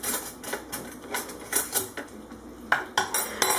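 Metal spoons clink and rattle against each other as they are pulled from a batch of cutlery, in a quick irregular run of bright close jingles and taps.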